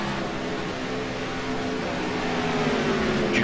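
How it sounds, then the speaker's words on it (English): Race cars drive in a racing video game, a steady droning engine roar that holds even and swells slightly toward the end, with no speech over it. "You'll hear the other cars going by, but you only see one, the one you're on."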